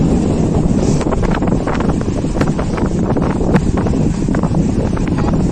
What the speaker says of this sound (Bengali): এত সুন্দর হাওয়া সমুদ্রের।